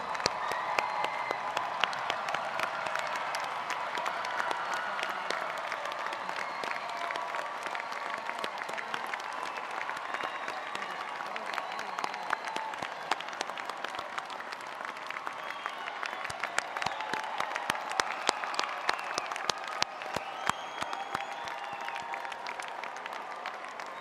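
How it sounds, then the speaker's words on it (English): Large commencement crowd at a university graduation ceremony applauding steadily and fairly loudly for the graduates' families, a dense sustained clapping with faint cheers, continuous for the whole stretch with no talk. "will the parents, spouses, significant others, loved ones, grandparents, children, and all the relatives and supporters of the graduates please stand for a round of applause?"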